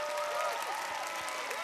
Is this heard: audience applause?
yes